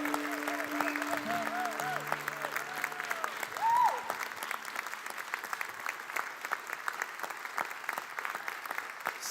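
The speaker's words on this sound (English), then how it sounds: "The applause is genuine. The applause is real." Applause from a church congregation, a broad wash of clapping that stays steady throughout, with some musical tones and a voice over it early on.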